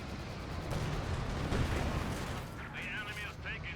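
Mortar fire in a strategy game lands as a dense rumbling barrage of blasts and booms. A commentator talks over it throughout.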